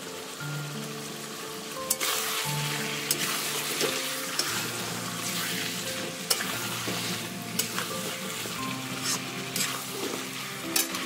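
Spiced meat being stir-fried for kosha in a pan, a steady sizzle with repeated scraping and stirring strokes at close range, no voices.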